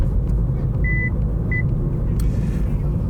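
Inside a 2024 MG3 Hybrid+ on the road, two short, thin electronic warning beeps sound about half a second apart over a steady, loud cabin rumble of road and engine noise.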